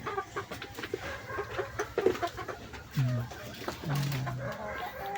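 Dominant CZ chickens cluck softly nearby in short bursts, with a few louder squawks near the end against a quiet farmyard background.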